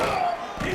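Stadium crowd in a college football video game, North Carolina against Virginia, at kickoff: a steady, dense roar of cheering that fills the whole moment without a break.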